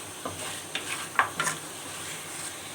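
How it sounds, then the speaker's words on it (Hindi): Mutton with spices and green chillies is stirred and fried in a pot, a soft sizzle broken by several short scraping stir strokes in quick succession. "अच्छी तरह से मिक्स करके इसको 5 मिनट और भूनेंगे।"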